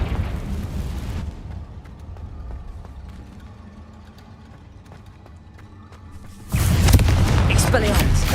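Confringo fire-blast spell in Hogwarts Legacy: a loud broadband burst erupts and keeps roaring steadily, following an earlier booming rush that cut off into a quieter stretch of faint rhythmic game sounds.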